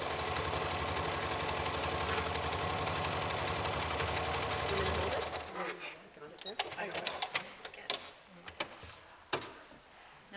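A sewing machine stitches one side of a clicker bag, a steady, fast mechanical whir for about five seconds before stopping, followed by scattered clicks and handling sounds while people talk.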